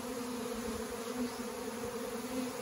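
A honey bee swarm in early autumn, September, produces a steady, close, droning buzz with a continuous hum and no pauses; the bees are nervous and agitated.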